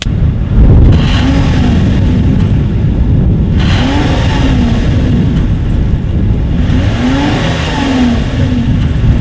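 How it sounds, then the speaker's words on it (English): A 2017 Lexus ES 350 with a dual exhaust setup revs close by, its engine rising in three repeated throttle blips over a loud, steady idle. "And there is a dual exhaust setup. So as always, here is that exhaust clip."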